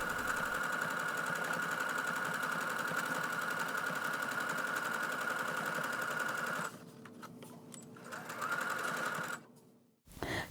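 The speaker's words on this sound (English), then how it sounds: "Taking it to the machine, and we're just going to stitch around." A sewing machine runs in a fast, steady mechanical whir while stitching around a child's double-sided bucket hat, then slows and stops in short bursts before falling quiet.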